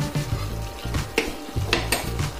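Soybean chunks, papaya and potato stir-fried in a pan: continuous close sizzling with a spatula scraping and clinking against the metal in repeated strokes.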